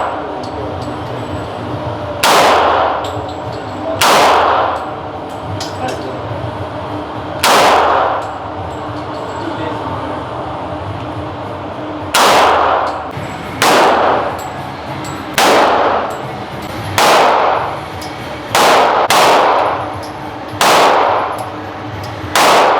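Handgun shots at a shooting range, about a dozen loud, sharp reports spaced irregularly, some in quick pairs, with voices speaking between them.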